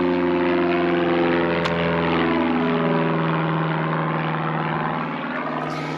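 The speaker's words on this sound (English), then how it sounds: "There's an airplane." A propeller airplane passes overhead outdoors on a chilly morning, a steady loud droning hum with layered engine tones that holds for several seconds and eases slightly toward the end.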